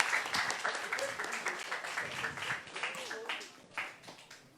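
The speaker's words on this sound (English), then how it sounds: "Give them a big applause." Audience applause at a startup pitching competition final, a moderate patter of clapping mixed with voices speaking over it, fading slightly toward the end.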